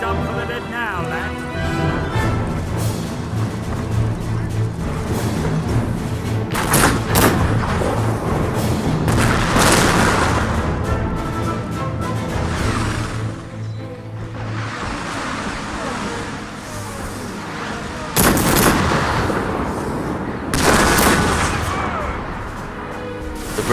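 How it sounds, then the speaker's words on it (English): Cannon fire from an 80-gun French grand battery at the Battle of Waterloo, 1815, heavy booms and rumbling bursts heard under continuous narration and voices. "A French grand battery of 80 guns began the artillery duel."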